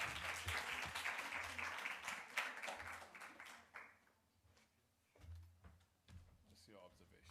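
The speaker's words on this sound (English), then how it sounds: "Let's give all of our judges a round of applause." Audience applause for the judges at a science and technology speaking competition, a dense wash of clapping that swells and then thins out, with a voice speaking over it toward the end.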